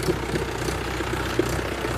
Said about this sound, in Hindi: देखिए ट्रैक्टर यहाँ जा रहा है